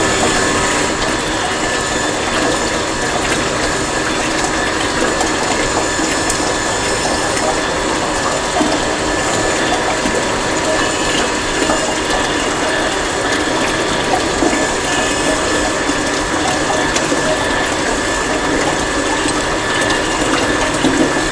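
A water pump runs steadily in a lab orifice plate flow experiment, giving a constant mechanical whir with rattling and rushing water that fills a collecting tank, unchanging throughout.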